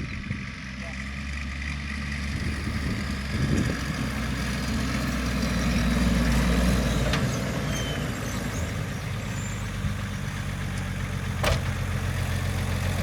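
Large ESARCO 8x8 truck idling with a deep, steady low rumble and exhaust note close by, broken by brief clunks and a sharp air release near the end, with people talking over it.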